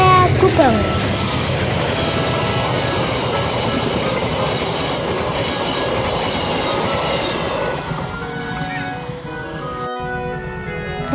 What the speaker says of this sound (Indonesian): Kereta api Pasundan dari Kiara Condong ke Surabaya Gubeng.